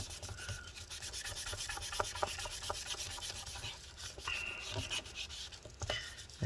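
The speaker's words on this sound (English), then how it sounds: "Let's flip this over and we'll just give it one last wipe down." Cloth wiping and rubbing over the underside of a 13-inch MacBook Pro A1502 late 2013 during a battery replacement, a continuous close scratchy swishing with short strokes and no talk.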